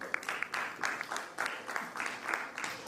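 Moderately faint applause from the audience at a storytelling competition grand finale welcoming the next young participant; clapping comes in slightly pulsing waves, fairly distant, with no clear speech over it.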